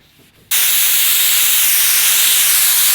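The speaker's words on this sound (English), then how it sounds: "let's go ahead and sand that out with maybe 800 or 1000 grit" Wet sanding of base coat paint on a Toyota Supra hood with 800 to 1000 grit paper, heard as a loud, steady hiss that starts abruptly after a brief quiet moment and keeps going without pause.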